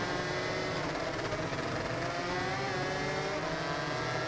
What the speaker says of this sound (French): vraiment monter à fond comme ça et faire des rupteurs